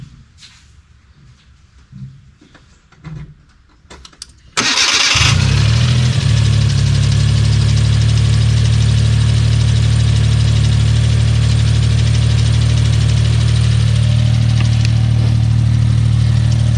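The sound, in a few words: Suzuki Cappuccino car engine starting and idling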